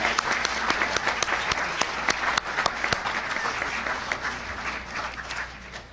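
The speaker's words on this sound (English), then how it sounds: "Let's give these two ladies a round of applause for all their efforts." A crowd gives sustained applause to two Booster Club volunteers, a dense patter of many hands clapping that fades slightly toward the end.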